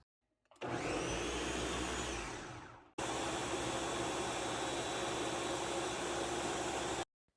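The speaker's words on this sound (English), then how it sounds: "After blending my hair mask for 10 minutes, this is how it is looking" A blender whirs through a homemade hair mask made with organic coconut oil, a loud, steady motor roar that cuts out briefly partway through, then starts again and runs on at full strength.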